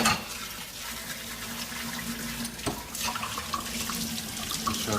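Tap water runs into a kitchen sink over parsley and other gazpacho vegetables being rinsed, a steady close hiss with a few splashes and knocks throughout.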